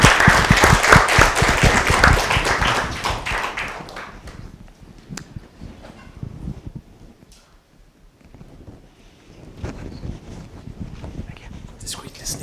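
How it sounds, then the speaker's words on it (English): A conference crowd applauds a keynote speaker at a student hackathon finals, a dense burst of clapping that is loud at first and then thins into scattered claps and room noise before swelling slightly again. "Big round of applause for our keynote speaker"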